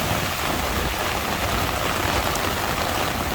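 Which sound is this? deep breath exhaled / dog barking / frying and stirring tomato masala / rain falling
rain falling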